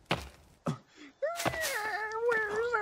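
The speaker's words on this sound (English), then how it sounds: "You hear them screaming for the woman." In the video game The Forest, a few sharp thumps, then a loud wavering wail like a scream, rising and falling in pitch for over a second.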